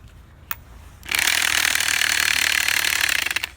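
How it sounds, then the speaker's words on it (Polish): A pressure washer driven by a lawnmower engine runs with a damaged gear, a loud, steady mechanical roar that starts abruptly after a brief click and holds with a rough, rattling edge. "Nie wiem czy słychać dokładnie, ale już chyba udało mi się uszkodzić przekładnie"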